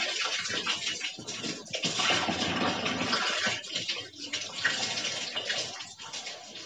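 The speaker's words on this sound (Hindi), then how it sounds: "अब मैं इसको पूरा ओपन करता हूँ तो देखिए दोस्तों अब पानी का प्रेशर फुल आ रहा है" A repaired water tap opened fully, water gushing at full pressure in a steady, loud, close rush that continues throughout.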